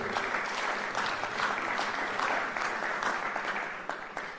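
A crowd claps steadily at a graduation ceremony, a sustained wash of applause that tapers slightly at the end.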